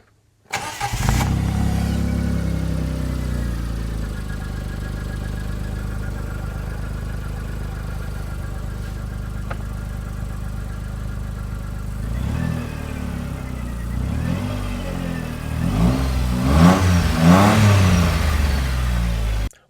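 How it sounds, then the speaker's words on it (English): A John Deere Gator engine cranks and starts, settles into a steady idle, and then the throttle is worked in a few rising and falling revs near the end, loud and close. "let's go ahead and fire it up and work the throttle a little bit and make sure everything's working right"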